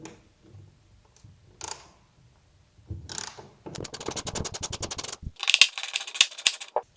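A ratcheting wrench clicks rapidly as T25 Torx bolts are backed out of the air filter housing on a 2014 Porsche Cayman S, with short metallic rattles and taps between quiet gaps.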